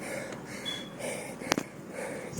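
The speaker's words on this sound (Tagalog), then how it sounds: "Sa part na ito, marinig ninyo, grabe, hinihingal na." Heavy, rhythmic panting from a mountain biker riding uphill alone on a nature trail, close and fairly loud, with one sharp gasp-like burst partway through.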